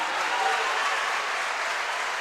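A church congregation applauds for Jesus during a sermon, a steady, dense wash of many hands clapping at moderate distance, sustained evenly throughout with no voices over it.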